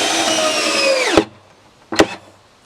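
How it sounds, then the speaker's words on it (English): Cordless drill driving a screw to fasten a sailboat transom temporarily to a building jig. One steady whirring run winds down and stops, then a brief second burst follows, close and loud with no talking. "I'm going to temporarily screw the transom onto this jig"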